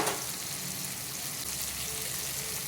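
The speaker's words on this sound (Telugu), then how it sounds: "జస్ట్ ఇలా ఫ్రై అయ్యాక దీనిలోకి నాలుగు రేకులు చిన్నెల్లిపాయ వేసుకోవాలి" Shallots frying in hot oil in a pan give off a steady, dense sizzle that stays even and close throughout, with no talking.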